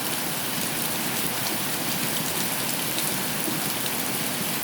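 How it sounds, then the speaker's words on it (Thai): Morning rain pours down in Chiang Mai, Thailand, a steady, dense hiss of drops striking surfaces that continues evenly throughout with no voices. "เช้านี้ฝนตกค่ะ"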